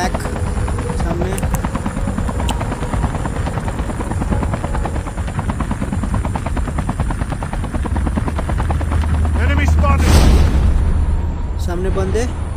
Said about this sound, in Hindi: हेलीकॉप्टर को आज उड़ाते हैं